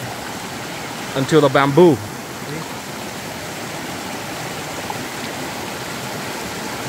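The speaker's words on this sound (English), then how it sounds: "To guide the water into the chute." Water trickles steadily from cut bamboo into a chute in a jungle setting, a constant close splashing flow under the whole clip, with a brief stretch of speech near the start.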